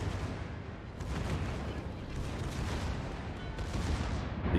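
Battleship Fuso firing its guns in the naval video game World of Warships, a continuous rumbling barrage of heavy booms and blasts that stays fairly steady and dense, with no speech over it.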